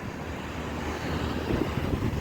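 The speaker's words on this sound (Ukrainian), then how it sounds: "тому що такий вітер тут ще й холодний" Strong, cold wind by the sea in Alanya buffets the microphone in a continuous, loud rushing roar that swells slightly toward the end.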